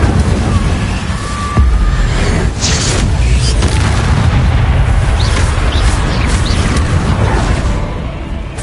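Incendio fire spell cast in Hogwarts Legacy, a loud continuous roaring rumble with a sharp burst near the start and crackling bursts throughout, filling the whole stretch without letup.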